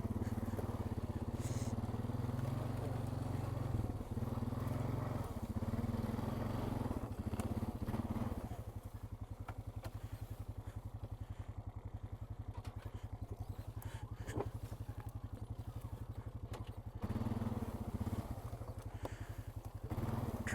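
A Honda Rancher ATV engine drones steadily while riding along overgrown woodland trails, its pitch dropping into a lower, pulsing chug midway, with faint clatter of brush around the machine.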